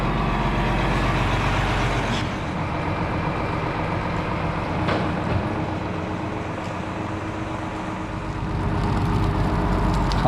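A lorry on a working building site beside a railway station under restoration rumbles steadily with a loud, close, low engine drone, a few knocks and clanks rising above it.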